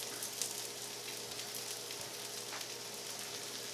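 Rice sautéing in oil in a pan for Portuguese rice, giving a steady, close sizzle with a soft crackling hiss that runs unbroken throughout, no voices present.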